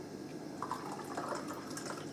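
Freshly boiled hot water poured into a pot for pot-roasting heart in a kitchen, a steady close trickle and splash lasting a couple of seconds without speech.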